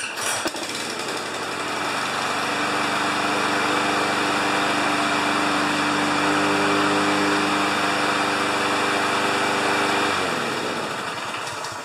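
A Toro lawn mower engine, nearly out of fuel, catches quickly and runs at a steady, loud, buzzing pace for about ten seconds before dropping away, close by with no talking.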